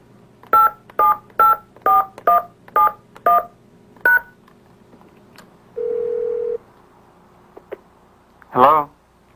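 A cellular phone keypad plays a quick run of about seven short, evenly spaced dialing tones, then one more tone. A steady tone follows, and then a louder ring-like burst, all close and clear in a quiet room.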